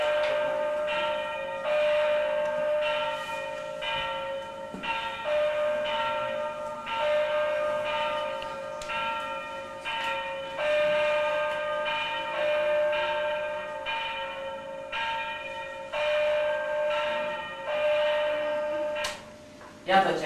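A Romanian church bell rung by skilled hands, a resonant metallic strike every couple of seconds with long ringing decay, loud and steady throughout.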